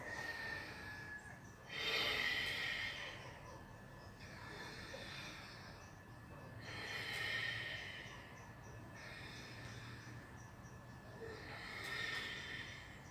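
Slow, deep yoga breaths in and out, long airy inhales and exhales repeating at a steady unhurried pace, close and soft in a quiet room.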